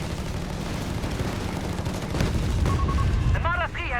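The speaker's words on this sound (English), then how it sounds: "the grenade launcher just wipes the machine gun there" Grenade launcher fire in the Company of Heroes 3 strategy game: heavy booming blasts rise out of a dense, continuous battle din of gunfire and explosions, with brief tonal effects near the end.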